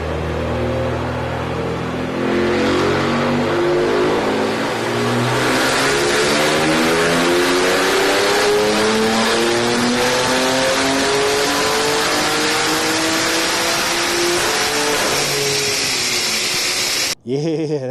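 Tuned BMW M3 G80 of about 703 horsepower with a new exhaust accelerates hard, a loud, close engine roar climbing steadily in pitch through sustained pulls before cutting off abruptly at the end.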